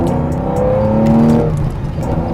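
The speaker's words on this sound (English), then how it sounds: "I actually love the noise carbureted engines make" The carbureted engine of a 1973 Porsche 911 2.7 RS hot rod revs up loudly and close, its pitch climbing under load before easing off into a throaty idle.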